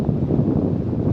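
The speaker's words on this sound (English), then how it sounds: "right now you can hear the wind. It's quite windy." Steady wind buffeting the microphone, a low continuous rumble with no voices.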